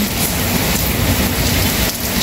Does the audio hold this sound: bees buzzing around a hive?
no